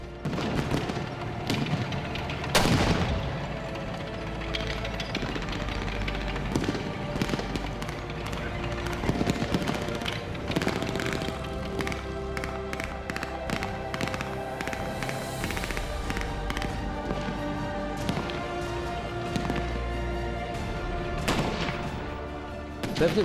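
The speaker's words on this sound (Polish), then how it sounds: "Niemcy odpowiadali ogniem karabinów maszynowych." Soviet tanks fire their cannons while German machine guns answer in a battle scene, with sharp booming shots and rattling bursts repeating steadily throughout at close range.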